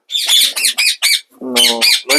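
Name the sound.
parrot squawking while flying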